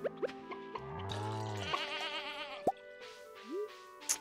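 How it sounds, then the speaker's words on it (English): Goats bleat in the farming video game Stardew Valley, several wavering calls over soft game music, with small plops and drips, fairly quiet and without talk. "Goats, please come outside."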